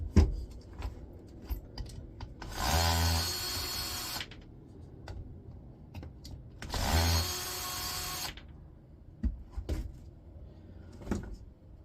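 Power tool driving screws out of an electric skateboard being taken apart, with two loud whirring bursts of a few seconds each separated by quiet handling clicks and clinks close by.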